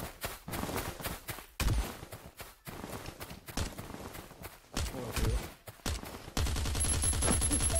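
Gunfire in the survival shooter Last Day Rules Survival, sharp shots popping irregularly amid game sounds, ending in a sustained loud burst of firing.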